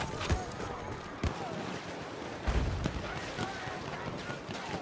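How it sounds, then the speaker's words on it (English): Machine gun and artillery fire in the video game Battlefield 1, several heavy booming blasts and sharp bursts scattered over a rumbling battlefield din, some near and loud, others fainter. "There's an enemy machine gun."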